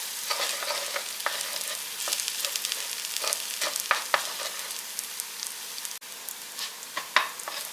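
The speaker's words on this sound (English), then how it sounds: "I'm going to start scrambling that egg up." An egg is scrambled in a hot frying pan with rice and vegetables, giving a steady sizzle under repeated scraping and stirring taps of a utensil against the pan.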